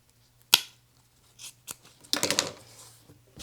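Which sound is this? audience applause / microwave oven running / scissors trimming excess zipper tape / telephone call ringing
scissors trimming excess zipper tape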